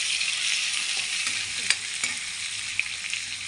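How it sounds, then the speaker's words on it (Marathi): Masala fries in a pan with onions for a home-cooked dish, a loud steady sizzle with a few sharp spatula taps and scrapes. "आपला मसाला फ्राय होतोय."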